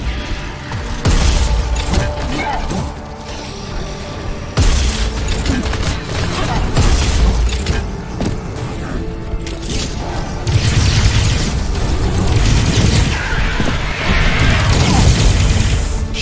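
Rocket launcher blasts and explosions during a boss fight in the first-person shooter Prodeus, dense and loud with continuous booms, crashes and mechanical clatter layered over game music throughout.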